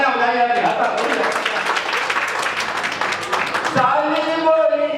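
A crowd at a Kanpur kavi sammelan poetry recital in 2025 breaks into a few seconds of dense, loud applause, with a voice speaking just before and right after the clapping.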